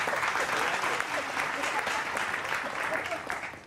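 Steady audience applause at a Hindi comic poetry gathering with political guests, a continuous wash of many hands clapping throughout at moderate distance.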